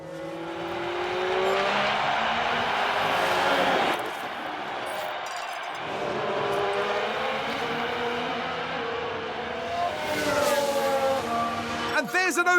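Engines of F1 race cars in the F1 Manager 22 video game drone steadily for the whole stretch as one car overtakes another, with a commentator talking over the racing and tire squeal and siren-like tones coming through in places.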